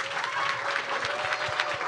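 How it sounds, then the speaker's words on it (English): A talk show studio audience claps steadily for a couple of seconds, dense applause filling the room. "Please clap your hands if you have heard of it."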